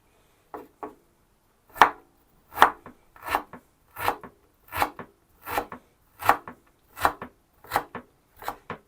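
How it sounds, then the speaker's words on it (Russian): A knife chops ginger into larger cubes on a cutting board, about a dozen crisp, sharp strikes in a steady, slightly uneven rhythm, close and clear with quiet gaps between them and no talking. "мы нарезаем имбирь уже не соломкой, немножечко крупнее, кубиком"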